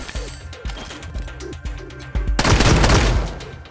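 A shotgun fires in the video game Wasteland 3: a few lighter thuds first, then one loud, booming blast that rings out near and heavy, with no talking.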